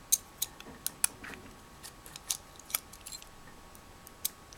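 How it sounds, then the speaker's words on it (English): An Enlan Bee L04 folding knife is handled and closed, giving a series of sharp metallic clicks and ticks, close and irregular, spread across several seconds with no talking. "Let's close up that bad boy so it doesn't cut me."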